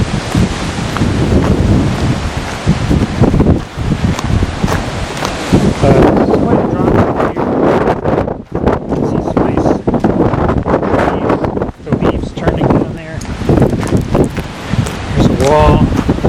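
Strong gusting wind buffets the microphone in a canyon near an old tunnel, a loud, continuous rushing roar with fluctuating intensity and occasional brief lulls.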